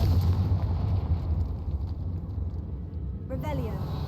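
A Confringo fire-blast spell in Hogwarts Legacy erupts in a heavy, sustained explosive rumble that dominates the opening seconds and slowly tapers, with a brief crackling burst near the end.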